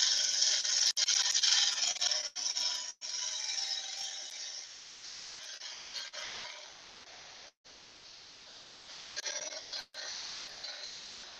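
A turning tool with its bevel riding cuts a hard piece of wood spinning on a lathe, giving a steady close scraping hiss broken by a few brief pauses and easing slightly in the second half.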